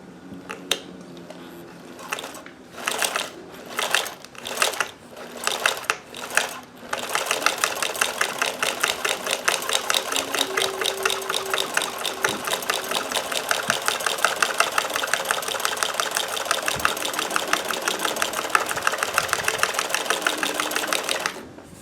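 A sewing machine fitted with a walking foot stitches through thick fabric, starting with a few short stop-start bursts, then running loud and continuous with a rapid mechanical chatter for about fifteen seconds.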